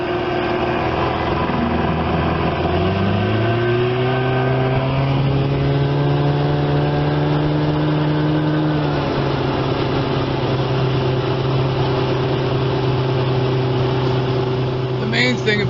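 A 1975 Evinrude 25 HP outboard motor runs steadily after a restart, its droning tone climbing in pitch, then settling into an even, loud hum near at hand.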